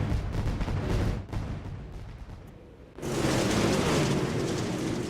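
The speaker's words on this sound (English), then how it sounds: "Fireworks, the explosion, the race is on." Fireworks go off at the start of a dirt race at Eldora: a rumbling crowd-and-engine bed gives way at about three seconds to a sudden, loud, sustained crackling blast that fills the rest of the moment.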